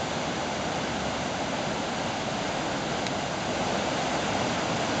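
Loud, steady rush of floodwater flowing over a road, a dense roaring wash that continues without pause, close by.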